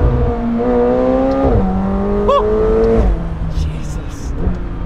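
A McLaren 720S Spider's 720-horsepower engine roars and climbs in pitch through several gear shifts, loud and close from inside the cabin on a mountain pass road, before easing off.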